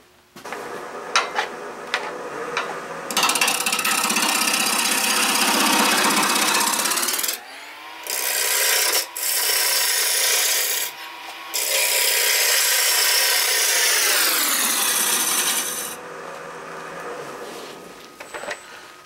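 A wood lathe cuts a geometric wooden vase being carved, giving loud sustained grinding and chattering in long passes. The tool is lifted off the wood several times in brief pauses, and the pitch shifts as contact changes.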